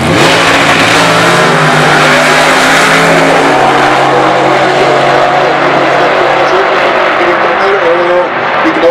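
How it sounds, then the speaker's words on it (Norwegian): A powerful 747-cubic-inch drag racing engine roars loudly, its pitch climbing as the car accelerates hard down the strip, continuous and close before fading slightly at the end. "Bjørn Johansen kjører en 747 kubikktops motor."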